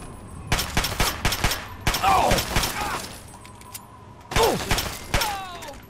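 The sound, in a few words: gunfire shooting enemy's head in Fallout 3 video game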